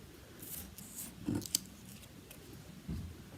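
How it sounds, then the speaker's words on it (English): Scissors make a few quiet snips as stamped paper craft pieces are cut out, in short irregular bursts with pauses between them. "cut round the edge a little bit further away from your stamping than you normally would"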